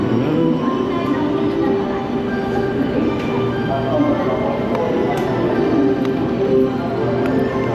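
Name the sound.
train at Kokura station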